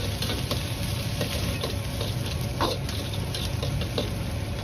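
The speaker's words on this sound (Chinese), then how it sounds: "再放入蒜苔段翻炒" Garlic scape pieces being stir-fried in a wok, a steady loud sizzle with occasional light scrapes and taps of tossing.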